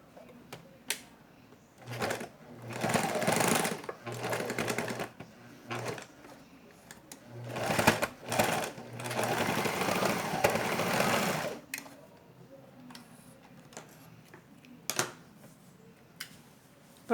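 Sewing machine stitching doll fabric, several close bursts of rapid mechanical chatter starting and stopping, separated by quiet pauses and small clicks of handling.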